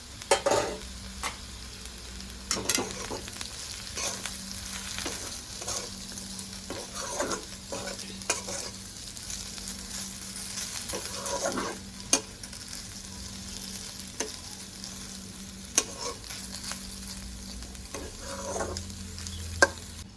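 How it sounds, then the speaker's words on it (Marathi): Stuffed okra (bharli bhindi) with masala cooks in a pan, giving a soft, steady sizzle broken by intermittent scraping stir strokes spread through the clip, with no talking. "आता मी राहिलेला मसाला टाकून घेते आणि 5 मिनिटं शिजून देते"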